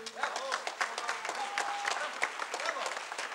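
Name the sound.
audience applauding the backstage crew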